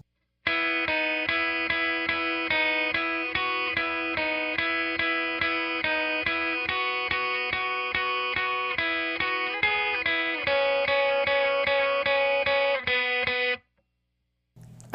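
A clean electric guitar with no effects plays the melody line of a worship song, a steady run of plucked notes lasting about thirteen seconds, close and even in level, before stopping abruptly.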